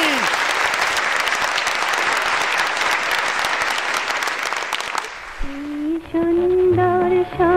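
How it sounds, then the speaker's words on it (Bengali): Studio audience applause for an opening musical performance on a Bengali comedy show, a dense, loud burst of clapping for about five seconds that cuts abruptly into a song with instruments and singing. "হাততালি হাততালি"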